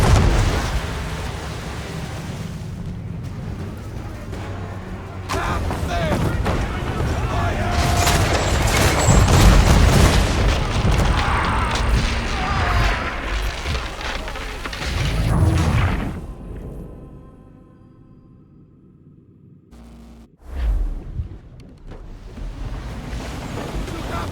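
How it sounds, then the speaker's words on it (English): Naval cannons fire chain shot during a ship battle in Assassin's Creed 3, heavy booming blasts over loud sea wind and waves, with a burst of dense rumbling mid-clip before a quieter stretch and one more sharp boom near the end. "Chain shot, Connor!"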